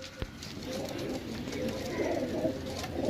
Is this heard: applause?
no